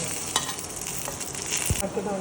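Curry leaves hitting hot oil with ginger garlic paste for a catfish egg fry give a steady close sizzle with a few sharp crackles and a stirring scrape, no voices.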